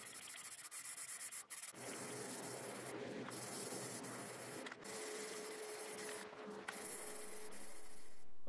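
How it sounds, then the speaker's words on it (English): A handheld spray gun attachment clipped onto an aerosol spray paint can, used for finishing a laser-engraved wooden graduation sign, gives a steady continuous hiss with a few brief breaks, close and moderately loud throughout. "go ahead and pick up one of these little spray guns for the top of the spray cans"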